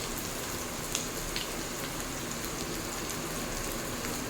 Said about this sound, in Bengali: তেল হালকা গরম হয়ে গেছে, এখন দিয়ে দেবো 1 মুঠো পরিমাণ কুচনো পেঁয়াজ